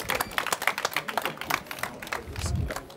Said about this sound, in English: Can you get a round of applause for our speakers?